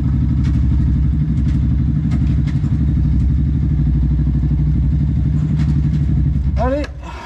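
A cold scooter engine fitted with an Airsal CPI GTR 70 cylinder kit and a lightened variator runs loud and close, a steady buzzing idle with slight revving that cuts off near the end.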